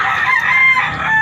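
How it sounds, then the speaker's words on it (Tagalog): Chickens cackle and cluck loudly up close during a flood in Pasig City, a busy continuous squawking chorus with no talking. "Ayan mga manok"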